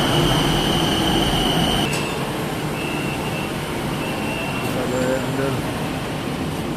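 A train rolls along under steady rumble in a Bangkok transit setting, with a faint high whine from the wheels and some background chatter; the noise is continuous and moderately loud throughout.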